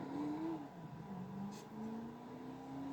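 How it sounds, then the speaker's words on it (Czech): Old Aston Martin car in a video game, its engine humming and rising in pitch as it revs and shifts, quiet and steady with a brief whir. "Nějaký starý Aston Martin."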